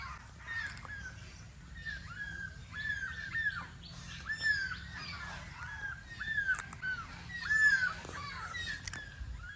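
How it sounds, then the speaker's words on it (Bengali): Birds calling on a village morning, mostly crows cawing repeatedly at moderate distance, with scattered chirps overlapping against a low rumbling background, fairly faint and without speech. "পাখিরা কিচির মিচির করছে শুনতে পাচ্ছ তোমরা"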